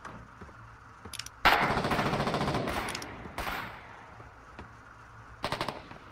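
Sustained machine gun fire in a Foxhole video game bridge battle, a loud dense burst of rapid shots running about two seconds, then scattered nearby gunfire and a short final burst near the end, with no talking.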